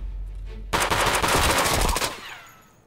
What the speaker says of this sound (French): Mais avant, je me fais tirer dessus.